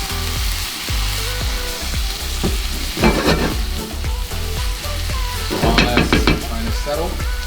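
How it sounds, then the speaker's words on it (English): Eggs stirred in a hot frying pan sizzle steadily while a utensil clinks and scrapes against the pan in bursts, close and fairly loud, with no talking. "I just mix the eggs in the pan, just like this."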